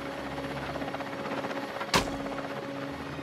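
A helicopter hovers steadily low over a snowy conifer forest during a tiger tranquilizing operation, its rotor drone continuous throughout, with one sharp crack cutting through near the middle.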